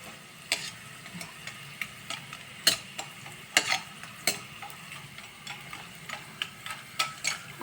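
Low sizzling of spices frying in oil for tomato thokku, broken by frequent clicks and scrapes of a spoon stirring in the pan, close and steady.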